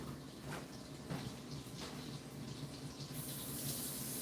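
Tap water runs steadily over fresh green peppers as they are rinsed at a sink, a continuous gushing hiss with a few brief splashy bursts and no talking.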